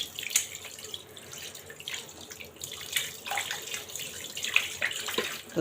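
Hands being washed under a running tap in a kitchen while duck meat is prepared, a steady splash of flowing water with uneven surges and drips, no voices.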